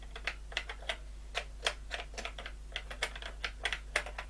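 Keys pressed on a ZX81 home computer keyboard produce a rapid, irregular string of crisp plastic clicks, close and fairly loud, over a constant low electrical hum, with no speech.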